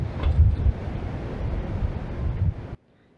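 Wind rushes against the microphone in a steady, low, muffled roar, then cuts off abruptly near the end, leaving near silence.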